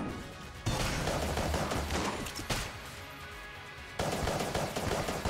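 Railgun shots in the twin-stick shooter Enter the Gungeon, two heavy bursts a few seconds apart with a sharp crack in between, loud and close over sustained game noise.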